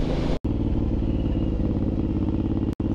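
Suzuki M109R motorcycle engine held on throttle through a braking turn, a steady, loud, low rumbling drone with a harmonic throb, broken by two brief dropouts.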